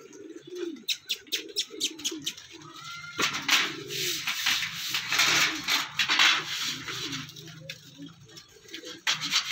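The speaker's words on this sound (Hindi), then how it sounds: "ये जी कबूतर वापस आ गए हैं अपने पिंजरे में।" Pigeons coo softly in low, throaty bursts, with wings flapping and scratchy rustling nearby, a faint voice murmuring in the background.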